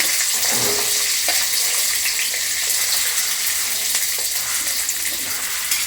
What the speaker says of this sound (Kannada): ಸ್ವಲ್ಪ ಎಣ್ಣೆ ಕಾಯ್ದ್ಮೇಲೆ ಬೆಳ್ಳುಳ್ಳಿ ಹಾಕ್ಕೊಂಡು ಸ್ವಲ್ಪ ಡ್ರೈ ಮಾಡ್ಕೋಬೇಕು